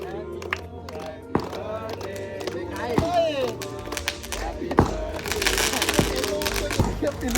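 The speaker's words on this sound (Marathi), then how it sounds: "फटाक्याची आतिषबाजी खूप लवकर येले फटाफट पेटल्यान" Firecrackers and fireworks at a birthday celebration pop in scattered sharp bangs and crackles while a crowd chatters and shouts nearby.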